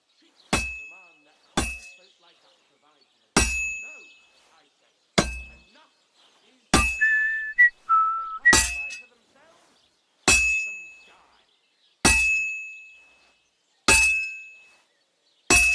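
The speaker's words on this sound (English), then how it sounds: "if it was all about hitting an anvil with a hammer, any dolt could do it" Hammer blows on an anvil while forging a sword in Kingdom Come Deliverance 2: about nine sharp, ringing metallic strikes at a steady pace, each decaying quickly, with a brief tonal clank partway through.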